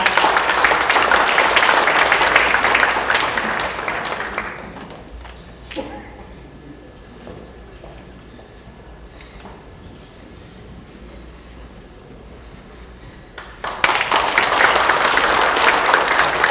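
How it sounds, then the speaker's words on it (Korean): Audience applause at a book-launch talk concert, greeting a Buddhist temple abbot invited to give a congratulatory address: a loud, dense burst of clapping that fades into a quiet lull, then a second full round swells up near the end. "여러분 따뜻한 박수로 맞이해 주시기 바랍니다"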